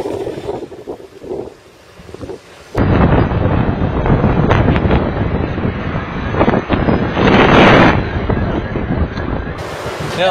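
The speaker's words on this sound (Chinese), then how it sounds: "侧风太大了，刚刚侧风太大了" A strong, gusty crosswind buffets the microphone during a round-island bicycle ride, first as lighter rumbling, then as a loud, sustained roar of wind blast lasting several seconds.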